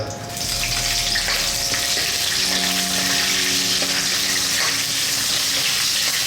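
Pandan leaves, chili and curry leaves hit hot oil and sizzle loudly and steadily, a dense close hiss that rises quickly at the start and holds without letting up.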